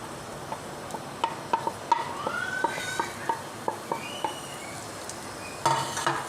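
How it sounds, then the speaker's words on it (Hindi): Onions frying in hot ghee for white chicken qorma, a faint, steady sizzle broken by repeated sharp clinks and taps of a utensil against the pan. "घी गर्म हो चुका है। अब इसमें मैं प्याज डाल दूँगी।"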